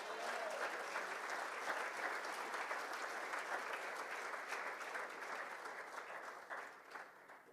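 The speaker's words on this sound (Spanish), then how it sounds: "Dele un aplauso al Señor en esta hora." Sustained applause from a church congregation during a sermon, dense and even clapping that fades slightly toward the end, fairly distant and soft in level.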